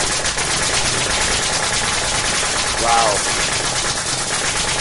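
A nail gun rapidly driving nails into a board to form a Mona Lisa picture, giving a loud, steady, close stream of sharp repeated clacks that runs throughout, with a brief voice exclaiming partway through.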